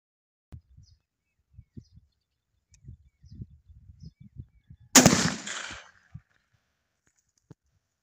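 A 12 bore shotgun fires a single AAA or BB shot shell, one loud sharp blast with a short decaying tail, after faint scattered ticks and rustles in a quiet outdoor setting.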